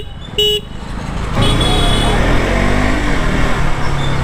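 Car horns toot in a nighttime traffic jam, one short, sharp honk at first, then a loud, steady rumble of engines and traffic crowding in close.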